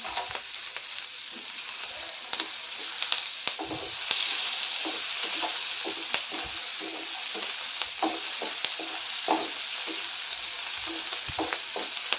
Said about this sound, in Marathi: आलं लसूण घालून एक दोन मिनटं परतून घेऊया त्यानंतर काजू घालते